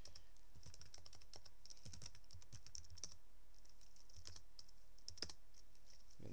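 Typing on a computer keyboard while using the Vim text editor on Ubuntu: quiet, irregular key clicks in uneven bursts over a low steady hum, with no talking.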